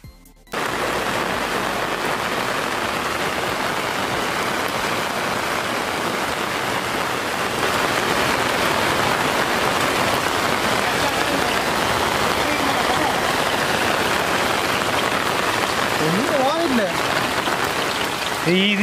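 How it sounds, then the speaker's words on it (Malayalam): Heavy rain pours down outdoors at a roadside spot, a loud, dense, continuous roar of drops hitting surfaces that starts abruptly and holds steady throughout. "ഞങ്ങളിവിടെ കടു ഇട്ടപ്പോൾ തന്നെ മഴ പെയ്തു"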